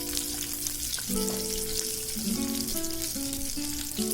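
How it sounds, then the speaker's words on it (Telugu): Mushrooms fry with chili powder, turmeric and salt, giving a steady, loud sizzle and crackle throughout, with a faint stir now and then and some background tonal sounds. "కొద్దిగా సాల్ట్ వేసుకొని ఫ్రై చేసుకున్నాము"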